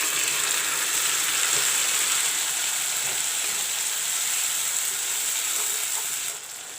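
Ground masala sizzles and fries steadily in hot oil with golden brown onions for a village-style egg curry, a continuous close, loud crackling hiss that dips slightly near the end.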